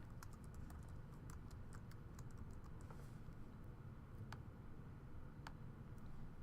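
Typing on a computer keyboard while entering a person's name and gender into a search form, with quick irregular key clicks over a steady background hum and a few sharper isolated keystrokes.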